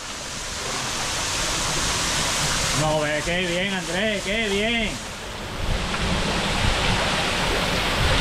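Steady roar of the Cascada de Alcazar waterfall near Baños de Urquizar runs throughout, loud and continuous, with people talking and exclaiming over it in the middle.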